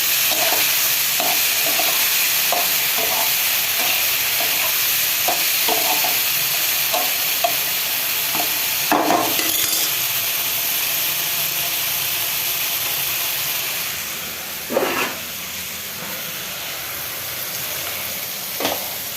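Cauliflower stir-frying in a pan, a loud steady sizzle with repeated sharp scraping stirs at a regular pace, then a bigger hissing burst near the end.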